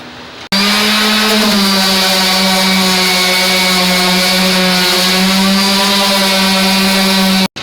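Power sander running on a wooden chessboard, a loud steady motor whine that starts abruptly after a brief quiet moment and holds an even drone until it cuts off near the end, no talking.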